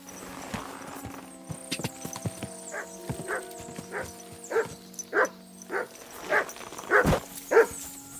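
A dog barks in the medieval video game Kingdom Come Deliverance 2, sharp repeated barks that grow louder and nearer, with horse hooves clopping steadily underneath.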